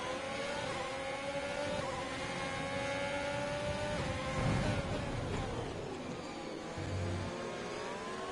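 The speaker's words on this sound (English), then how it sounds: "There goes the other McLaren." A McLaren race car in a racing video game, run on the Brazil circuit, with a sustained whining engine note rising and shifting as it drives past, loud and steady with no voices.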